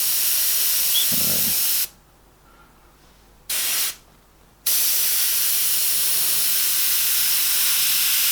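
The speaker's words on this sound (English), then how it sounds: "now what I'm going to do is just mist around the outside a bit." Airbrush spraying paint in a steady, loud hiss that stops twice for short breaks and then resumes, misting around the outside of an eagle painting, with one brief spoken word.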